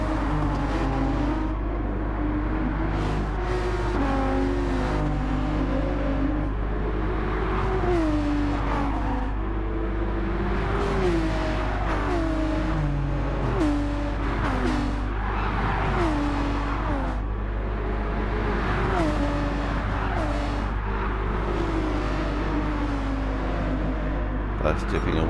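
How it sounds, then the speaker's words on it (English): A tight pack of four or five race cars circulates together at Bathurst in Gran Turismo 7, engines droning and revving in layered, shifting pitches as gears change, a loud continuous motor roar with someone commentating over it. "Cluster of 4 or 5 cars very close to each other here now."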